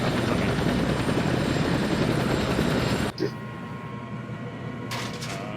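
A helicopter in the ARMA 3 video game drones loudly and steadily, then cuts off abruptly as it spools down, leaving a quieter hum and a brief knock afterward.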